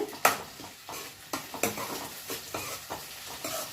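Onions frying in a pan for a prawn fry and being stirred: a soft sizzle with irregular scraping strokes of a spoon against the pan, several distinct stirs close up and no talk.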